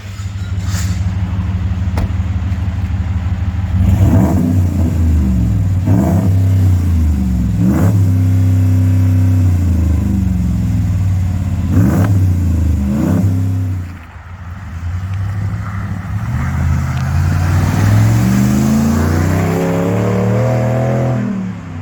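A DT Dodge Ram with a Manta stainless steel cat-back exhaust idles with a deep rumble, then is revved repeatedly in loud, close blips that rise and fall, ending in a longer climbing rev.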